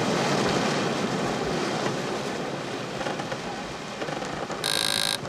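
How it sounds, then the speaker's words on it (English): The wash of a yacht on the sea makes a broad, loud, continuous rushing of churning water that holds steady throughout, with a sharp hissing burst near the end. "That actually was the sound of the wash of a yacht."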